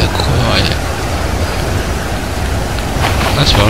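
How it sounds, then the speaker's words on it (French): A storm rages in the survival game Stranded Deep, with steady loud rain and wind filling the whole stretch and a low thunder-like rumble underneath, plus a few brighter gusty swells near the start and end. "On entend le vent, là, avec la pluie, tout."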